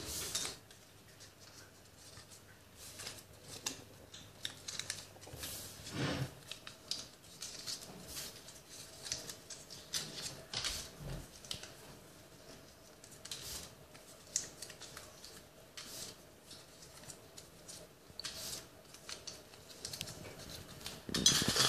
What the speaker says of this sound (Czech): máme zde na papírcích, které zmucháme do slosovací nádoby